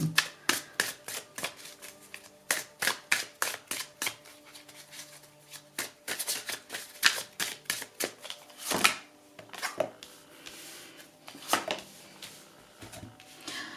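Tarot cards shuffled and pulled for a Valentine's Day reading: a long run of quick, crisp riffling bursts and slaps, close and fairly loud, with brief pauses between shuffles and no talking.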